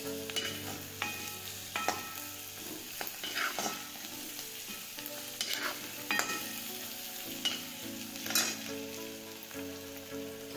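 Onion and crushed green chilli sauté in a pan, a steady close sizzle broken by repeated scraping stirs and clinks of the spatula at an irregular rhythm, with no talking.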